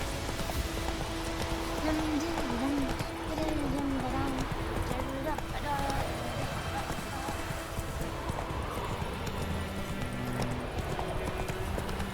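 Roach the horse gallops in The Witcher 3 with steady rhythmic hoofbeats under game music, a brief neigh mixed in and a voice talking over it.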